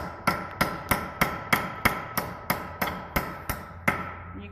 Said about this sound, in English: I'm going to use the ball peen side first and tap slowly to begin with.